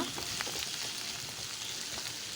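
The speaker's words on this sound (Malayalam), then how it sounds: "ആ എണ്ണയിലേക്ക് നമ്മൾ കുറച്ച് വെളുത്തുള്ളി ഇടുക അതിന് ശേഷം നമ്മൾ അരിഞ്ഞ് വെച്ചിരിക്കുന്ന വലിയ ഉള്ളിയില്ലേ അത് എടുത്തിടുക" Garlic and onion frying in oil for chilli gobi make a steady, soft crackling sizzle with small popping bursts, continuous and fairly quiet, with no voices.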